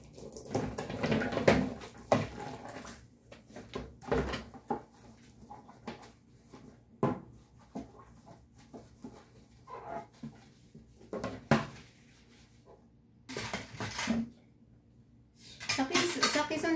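Dishes, pots and cutlery clatter and clink in bursts while being washed under running tap water, close by and uneven in rhythm, with quiet gaps between the clusters of noise.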